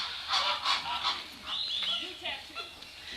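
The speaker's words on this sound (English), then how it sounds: "you'll get a better understanding for how loud flamingos can actually be when they're in an enclosed space" Flamingos honk and call loudly in a crowded, enclosed trailer, a series of nasal squawks in quick bursts, fairly near and echoing slightly.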